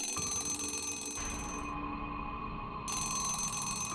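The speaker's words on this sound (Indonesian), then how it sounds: "Selang beberapa menit kemudian, telepon kembali berdering." A steady electronic telephone ringing tone drones on without a break, loud and close, with a constant background hum underneath.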